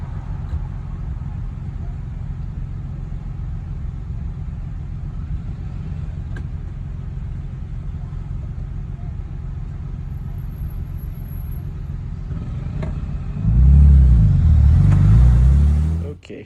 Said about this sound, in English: This bike's gonna take off real quick and it's super loud.